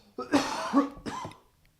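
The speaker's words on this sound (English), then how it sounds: "Stop coughing, dude." Two harsh, close coughs in quick succession, the first longer and rougher, then silence.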